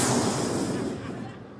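A voice imitates a bomb explosion on stage, a rough, breathy roaring burst that starts loud and fades away over less than two seconds.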